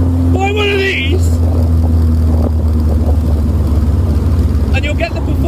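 Westfield sports car engine droning steadily while driving on a road, a loud continuous low hum with a voice talking over it throughout.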